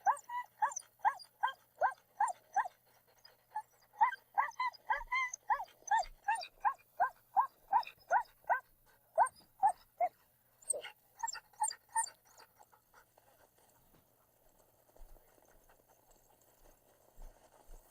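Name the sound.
sled dogs barking and whimpering at race checkpoint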